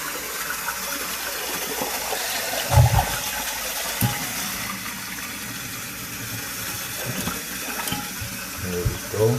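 Toilet tank refilling through a newly installed fill valve, with a steady close rush of running water filling the tank and a few brief clunks and knocks along the way.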